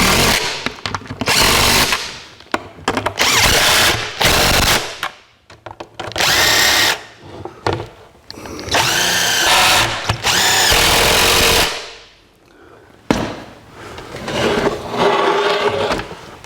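A power tool tightens nuts on a 1949 Chevrolet gasser in loud, repeated bursts of whirring, each lasting a second or two and separated by short pauses, with a few longer runs.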